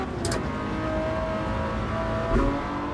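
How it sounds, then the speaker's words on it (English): A 1994 McLaren F1 in Gran Turismo 7, driven with an H-pattern shifter, revs hard as a loud, sustained engine whine that climbs in pitch, then drops briefly on a gear change. "Revving to the maximum, dropping it into third gear like an absolute champion."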